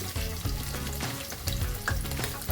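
Onion pieces frying in hot oil that already holds mustard seeds and curry leaves for a carrot curry: a loud, close, continuous sizzle broken by clicks and crackles as the pan is stirred.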